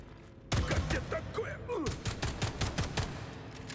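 Rapid bursts of firearm gunfire crack out in the video game Atomic Heart, starting abruptly and repeating in a fast, loud volley of sharp shots with a few thuds between.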